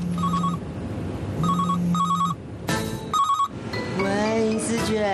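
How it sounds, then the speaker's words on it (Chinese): A phone ringtone plays in repeated melodic bursts, loud and close, with a voice speaking over part of it near the end. "谁电话？"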